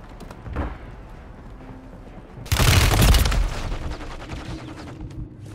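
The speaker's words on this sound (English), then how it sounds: "They're shooting me." Call of Duty gunfire comes as a loud close burst of rapid shots, preceded by a fainter single shot and fading into a ringing tail.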